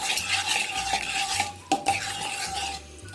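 Suji halwa cooking in ghee over low heat, with steady stirring and scraping of a spoon in a pan and a soft background sizzle, a few sharper clinks of utensil against metal; no talking.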